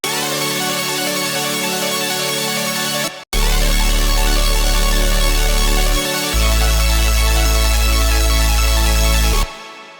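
A melodic loop distorted by a sidechained sub bass through the Flutter distortion plugin, giving a thick, gritty dubstep texture with low-end notes shifting under a bright, buzzy layer, briefly cutting out once.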